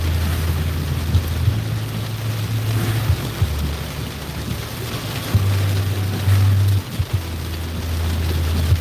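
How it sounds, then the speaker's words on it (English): Heavy rain pours steadily onto surfaces in a flooded area of Chambogo, a dense continuous hiss with occasional louder splashes and a low engine-like hum underneath, with no one talking. "This is a lot of rain."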